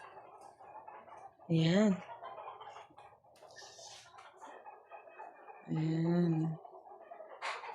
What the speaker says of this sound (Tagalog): Mga manokis ang nakatira dito.